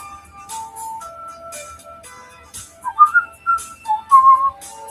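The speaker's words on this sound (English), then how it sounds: "Me whistling" A person whistles a wandering tune right beside the microphone, sharp and loud, with short held notes that grow more piercing toward the end and no talking.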